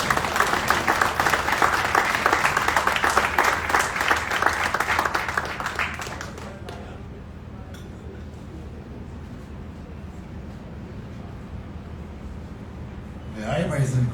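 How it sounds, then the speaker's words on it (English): A crowd at a 2024 IBERCUP Gauteng opening press launch applauds loudly and steadily for about six seconds, then the clapping fades to quiet room tone before a voice speaks near the end. "What a big round of applause,"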